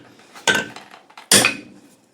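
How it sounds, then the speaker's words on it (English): A hammer strikes a wedge into the top of a carved Collins axe handle in two sharp, close impacts about a second apart, each with a short ringing decay. "that was a not great strike from the hammer"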